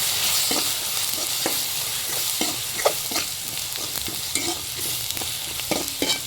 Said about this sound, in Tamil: ஆட் பண்ணி ஸோ இதையுமே நல்லா வந்து கிண்டிக்கணும்